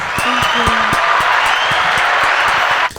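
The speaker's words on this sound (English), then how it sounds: "everyone give a round of applause for Libby" A small audience gives Libby a round of applause in a steady wash of clapping with a few voices mixed in, which holds at a loud, even level and then stops abruptly near the end.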